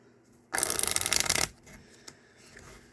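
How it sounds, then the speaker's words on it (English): A deck of cards is riffle-shuffled once in a quick, crisp burst lasting about a second, then quiet. "I'm just going to start out by having my spectator shuffle the deck."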